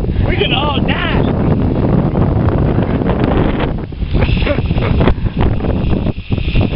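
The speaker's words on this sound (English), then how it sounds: "the wind's taking everything over" Strong wind roars continuously over a sailboat on the water, buffeting the microphone at a loud, steady level throughout, with gusts swelling and easing and speech faintly mixed in.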